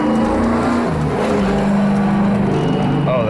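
A street-legal stock car slides around a damp clay dirt track, its engine droning and shifting pitch at steady high volume, with a faint hint of tire scrub.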